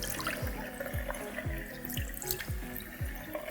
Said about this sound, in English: I'll just rinse with water.